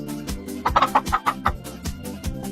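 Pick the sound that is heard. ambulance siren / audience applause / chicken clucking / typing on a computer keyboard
chicken clucking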